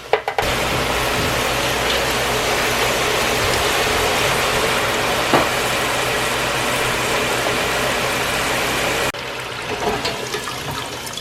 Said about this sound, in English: Let these fry up.